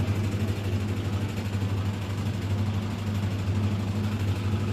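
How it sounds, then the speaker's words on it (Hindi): A Whirlpool top-load washing machine motor running freely after repair, a steady low hum with a constant tonal drone and faint mechanical hiss, close and unchanging, no speech. "मशीन का मोटर एकदम फ्री चल रहा है"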